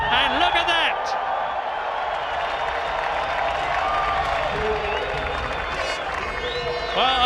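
A large crowd at the Indianapolis Grand Prix cheers and applauds in a steady, dense roar, with occasional whistles rising above it and a commentator talking over the noise.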